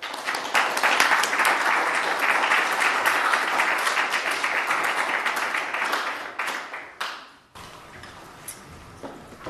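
A large audience applauds a guest speaker, Richard Rothstein, at a lecture: dense, steady clapping that holds strong for several seconds, then thins and fades out to near silence.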